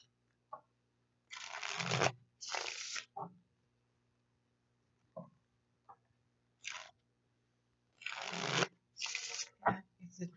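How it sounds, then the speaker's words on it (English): Tarot cards being shuffled by hand in several short, crisp riffling bursts separated by quiet pauses, close and fairly soft, with a faint steady hum in the background. "Yeah, it's a dream to shuffle."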